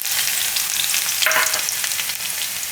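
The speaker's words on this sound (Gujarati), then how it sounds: "અને તેલ આપણું ગરમ થઈ ગયું છે. એમાં થોડુંક આપણે જીરું નાખીશું અને આ લસણ નાખી દઈશું" Cumin and grated garlic sizzle in hot oil with a loud, dense, close crackling hiss that holds steady, briefly flaring in the middle as more goes into the pan.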